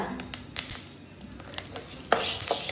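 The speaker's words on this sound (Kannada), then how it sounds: "ನೋಡಿ ಪಟಪಟ ಅಂತ ಸೌಂಡ್ ಬರ್ತಿದೆ ನೋಡಿ ಈ ರೀತಿ ಸೌಂಡ್ ಬರ್ಬೇಕು" Spices crackle and splutter in a hot pan for Mangalore-style sambar, with irregular sharp pops and sizzling close by, plus occasional clinks of a utensil.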